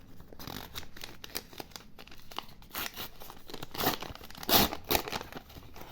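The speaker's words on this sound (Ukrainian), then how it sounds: "І це колекція 10 підписників розпаковуємо два пакетика." Paper surprise packets being unwrapped by hand, a steady run of crinkling, rustling and tearing with sharper crunchy rips near the end, close and fairly quiet, no talking.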